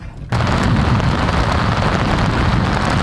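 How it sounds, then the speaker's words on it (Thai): Heavy rain pours down outdoors during a windy fishing trip, a dense, loud, steady hiss of drops that starts suddenly and continues unbroken with no voices. "ฝนเทลงมาตลอด เลย"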